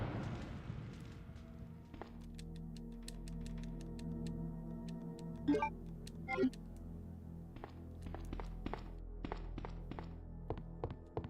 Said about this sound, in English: Same two footstep sounds.